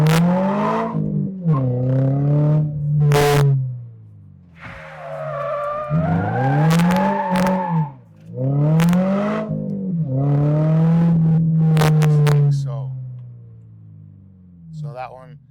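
A car slides through an e-brake turn, its engine revving and tires squealing in repeated rising and falling bursts, loud and close.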